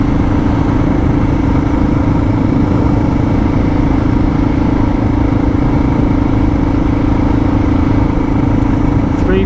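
A Suzuki DR650 motorbike engine running steadily while riding on an outback road between Windorah and Birdsville, a loud, constant drone with wind noise and no break.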